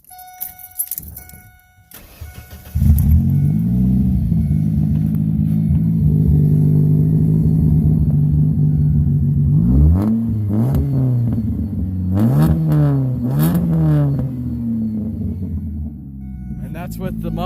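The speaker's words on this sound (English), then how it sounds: "That's with the muffler and the resonator taken off, and that's only idling" A Ford Focus idling with its muffler and resonator removed, a loud, deep, raw exhaust drone starting abruptly after a few seconds, with brief throttle blips making the pitch swoop up and back down.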